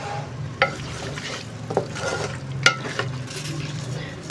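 Mutton in a yogurt masala with lemon juice is stirred in a pot, making soft wet sizzling under several sharp metallic clinks and scrapes of the spoon at irregular intervals.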